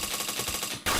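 Loud, continuous rapid-fire gunfire in a shooting video game, a dense rattling burst followed by a sharper, stronger blast at the end.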